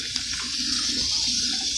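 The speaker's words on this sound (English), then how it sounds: "Turn on the water." Kitchen tap water running steadily into a cup, a loud, continuous hiss and splash close to the microphone, with the pitch of the filling shifting slightly as the cup fills.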